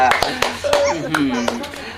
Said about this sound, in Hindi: ताली बजा कर रहे हैं।